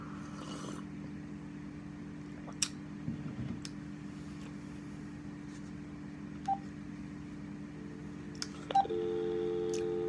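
Telephone being dialed, a series of sparse keypad tones with short beeps spaced across several seconds over a steady low hum, ending in a longer sustained tone.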